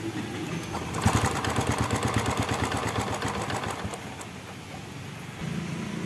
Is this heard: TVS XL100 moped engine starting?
yes